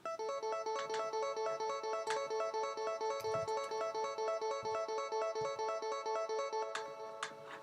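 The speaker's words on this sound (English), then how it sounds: "And then I have this guitar" A bright, bell-like guitar sound from a Logic Pro remix repeats a steady, rapid plucked pattern with shimmering sustained harmonics, loud and close, playing alone.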